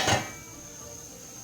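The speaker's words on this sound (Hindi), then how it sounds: "अब रखेंगे हम इनके ऊपर ढक्कन।" A metal lid set down on a cooking pot of mutton yakhni for pulao gives a single short clank, close and fairly loud, then a low steady background hum.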